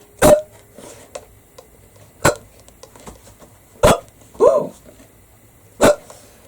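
A cartoon skeleton hiccups five times, each one a loud, sharp gulp spaced a second or two apart, with a short wobbly vocal squeak between the third and fourth.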